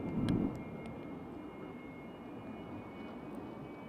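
An aircraft making a go-around at Kelowna airport in British Columbia, heard at night as a distant, steady engine roar, louder at the start and then a faint sustained drone.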